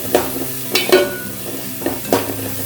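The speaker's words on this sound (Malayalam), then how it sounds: "ചെറുതാക്കി അരിഞ്ഞിട്ടുള്ള ചെറിയുള്ളി ചേർത്ത് കൊടുക്കാം. നമുക്കിത് നന്നായി ഒന്ന് വാട്ടിയെടുക്കണം." Chopped shallots sautéing in a pan for a Kerala-style prawns roast, with a soft steady sizzle broken by several distinct stirring scrapes spaced through the clip, close and moderately loud, with no talking.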